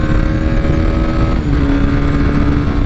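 A BMW G310 R motorcycle at speed: a loud, continuous engine drone mixed with wind rush, and a brief dip in the middle where the engine note shifts.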